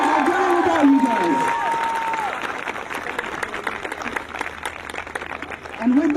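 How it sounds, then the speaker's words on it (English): Graduation ceremony audience applauding the graduates' parents: sustained, dense clapping from a large crowd with cheers and whoops mixed in, holding steady throughout and swelling again at the end. "take a moment with me now to applaud all your hardworking, resilient, and loving parents"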